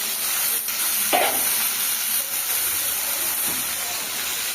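Bitter gourd, potato, onion and garlic frying in a pan in a home kitchen, giving a steady loud sizzle and hiss throughout with faint stirring scrapes.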